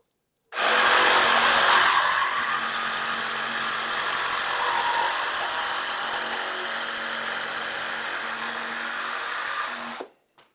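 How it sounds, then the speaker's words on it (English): A DeWalt drill runs steadily and close by, drilling a hole for a Heim joint on a homemade e-bike trailer hitch. It starts loud, settles into a continuous whine for about nine seconds and then stops, with no talking. "Time to break out the trusty DeWalt."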